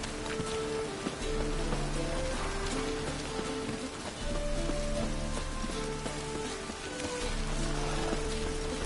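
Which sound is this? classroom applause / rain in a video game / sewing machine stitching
rain in a video game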